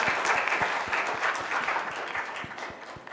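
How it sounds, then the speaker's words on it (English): Applause from the audience at an international Olympic research conference session, a broad steady clatter of many hands that fades slightly toward the end, with a few low thumps underneath. "Let's give a big round of applause for him."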